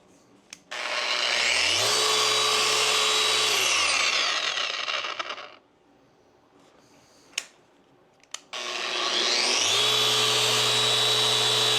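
A Bosch 6-inch sander spins up with a whining rise, runs steady and loud, winds down, then starts again after a short pause with a few clicks. Handling noises sit between the two runs.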